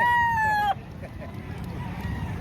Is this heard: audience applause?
no